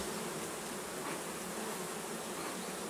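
Bees swarm and buzz around an opened beehive during a honey check, a dense, even drone that runs continuously and fairly quietly with no talking.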